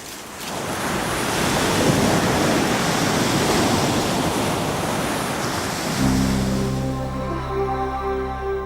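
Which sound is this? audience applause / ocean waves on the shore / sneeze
ocean waves on the shore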